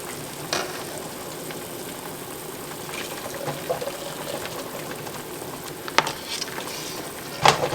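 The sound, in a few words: apple jelly boiling and being stirred in pot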